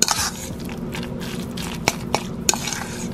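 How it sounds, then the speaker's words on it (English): A spoon stirs a tuna salad mixture in a bowl, giving soft, squishy scraping with a few sharp clinks of the spoon against the bowl, close and steady, with no talking. "to stir until you get the consistency that is conducive for you"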